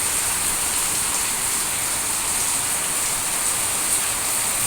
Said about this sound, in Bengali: ঝমঝম ঝমঝম বৃষ্টি